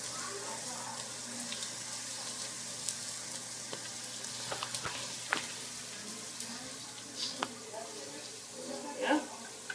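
Onions and garlic frying in a pan for a homemade meatball sauce, a steady soft sizzle with occasional clinks and scrapes as they are stirred, fairly quiet and continuous.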